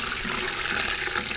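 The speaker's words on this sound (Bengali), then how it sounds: "আর আমি দিয়ে দেবো জল।" Water is poured into hot oil holding fried tempering spices for aloo biryani, a loud, steady rushing hiss of sputtering and bubbling that fills the whole short moment at close range.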